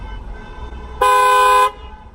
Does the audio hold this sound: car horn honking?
yes